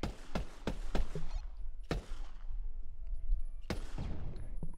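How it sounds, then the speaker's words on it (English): A burst of rapid video game gunshots in Pavlov VR, then two more separate heavy shots a second or two apart, loud and punchy over a steady rumbling background. "Do you hear gunshots?"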